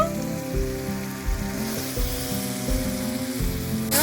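Peas and potatoes fry in spiced oil with turmeric and chilli powder for ghugni, giving a loud, steady sizzle throughout, with low clunks from stirring underneath.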